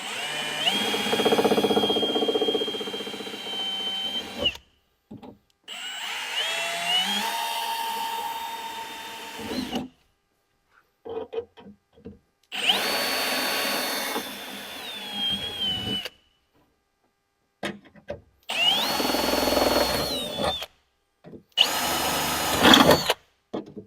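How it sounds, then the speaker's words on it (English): A power drill bores holes into an old Ford truck door during a window regulator and door tear repair, several close, loud whining bursts with rising pitch separated by silent pauses. "I'm going to go ahead and drill the rest of these holes"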